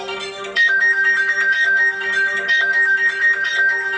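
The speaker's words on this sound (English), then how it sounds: "your phone should be ringing now" An electronic phone ringtone plays loudly and continuously, a steady bright tone with a higher melodic line joining after the first half second.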